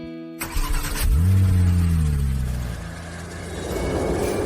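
A car engine turns over and catches, then settles into a steady idle before pulling away with a rising, fading drone; there is no talk.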